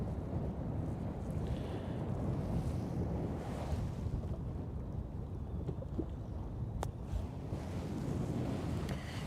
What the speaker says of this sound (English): Is it a little breezy right now?